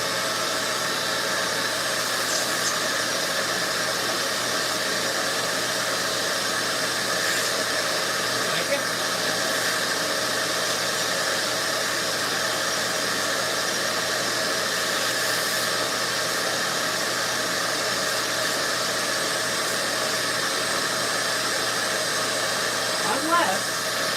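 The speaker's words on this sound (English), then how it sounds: "Where are we vacuuming? We are going to clean this off while I do this." A vacuum cleaner runs steadily and fairly loud while clearing dust from gaming PC parts, a continuous broadband whoosh lasting throughout, with a person talking now and then over it.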